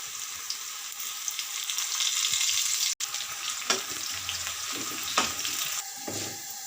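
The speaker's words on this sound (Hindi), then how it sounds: "ये मैंने प्याज ऐड कर लिया है, इसे अच्छे से फ्राई कर लेते हैं।" Chopped onions fry in a pot of oil for chana pulao, giving a steady, close sizzle with a few soft stirring knocks and scrapes and no talking.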